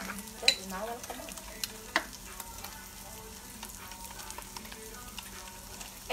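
Oil sizzles and crackles steadily in a pan for tilapia frying, with a few sharp pops and stirring clatters standing out over the hiss.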